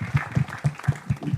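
Rhythmic clapping at a Raja Shivaji film launch ceremony, a steady run of about six close, sharp claps in quick succession with little crowd noise around them.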